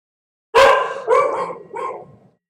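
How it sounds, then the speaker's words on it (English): A dog lets out three sharp, close barks in quick succession, the first loudest and the rest trailing off, alone in an otherwise quiet room. "are you barking at?"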